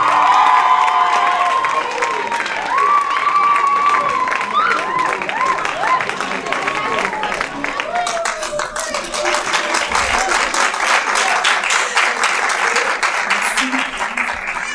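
A crowd at a televised beauty pageant verdict bursts into sustained applause with cheers and shouts, loud and continuous throughout, with a voice briefly rising over the clapping.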